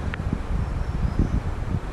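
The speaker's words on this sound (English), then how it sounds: "It's kind of windy." Wind blowing outdoors on a wet hiking trail at Dolly Sods, a steady low rumbling buffet with gusty swells lasting throughout, no voices.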